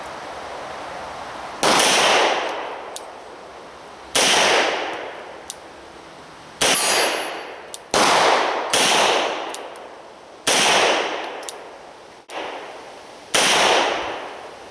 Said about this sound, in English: So I'm going to shoot, I don't know, 6 shots in single action mode.